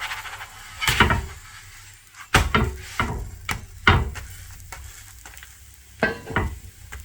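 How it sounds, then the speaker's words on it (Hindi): Aloo paratha, a potato-stuffed flatbread, cooks on a pan in a village-style home kitchen, with a low sizzle and several sharp clatters and thumps as it is pressed and turned, close and fairly loud. "पराठे को हल्का ब्राउन होने तक पकाना है।"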